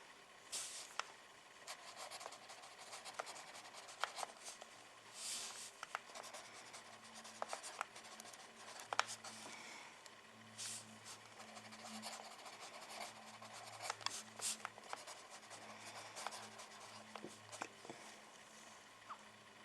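Pen scratching out letters on a paper page for a handmade Gravity Falls Book 3 prop, a close, quiet run of short strokes and rubs with brief pauses between them, alone without any talking.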